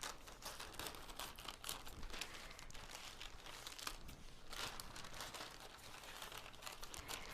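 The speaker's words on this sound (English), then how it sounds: "So I cut the sides like this, cut up the side." Scissors cut up the side of a thick plastic bag, giving continuous crinkling and rustling close to the microphone at a low, steady level with no talking.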